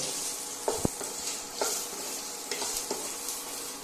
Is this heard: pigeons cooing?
no